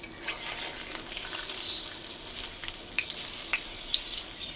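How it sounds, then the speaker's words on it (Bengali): Dahi vada fritters frying in hot oil in a pan, a steady close sizzle with scattered sharp pops and crackles throughout, no voices. "বড়াগুলো ভাজছি, এবার এটাকে উল্টে দেবো।"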